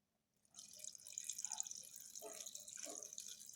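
Nitric acid solution mixed with water pours and trickles into a container, a steady splashing stream with a few louder gurgles, close by and alone.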